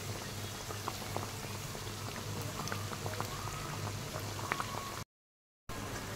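Potato and sabudana tikki frying in hot oil for a Navratri fast dish, a steady close sizzle with scattered crackling pops running throughout, briefly cut to silence near the end.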